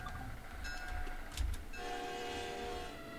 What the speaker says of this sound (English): It's got a very nice horn though,